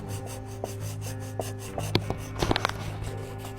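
Hand sanding of a carved wooden piece, heard as steady close rubbing and rasping strokes with a few sharper scrapes and knocks partway through.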